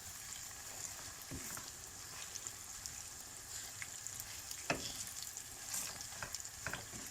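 Vermicelli being toasted in a pan, a quiet steady sizzle with occasional sharp clicks and scrapes from stirring, a few louder knocks standing out, close but low in level.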